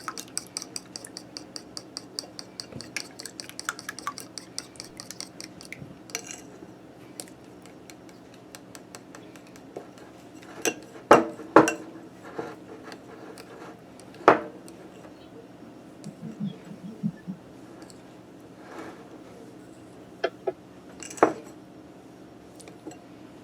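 Bread dough ingredients for oatmeal bread being mixed in a bowl, with quiet scraping and scattered sharp clinks and taps of a utensil against the bowl, close up and without talk.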